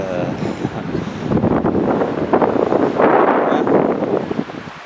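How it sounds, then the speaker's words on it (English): Strong wind blowing at a lakeside campsite on Charlton Lake, Oregon, buffeting the microphone in steady, rushing gusts that rise and fall in loud broadband roar, with no voice heard. "Can you hear that wind?"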